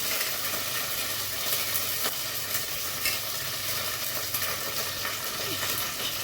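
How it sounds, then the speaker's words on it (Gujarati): Mustard seeds and cumin spluttering in hot oil for batata poha, a dense steady crackle and sizzle with sharp pops scattered throughout, close and continuous. "આપણી રાઈ જીરું બધું ચટકી ગયું છે."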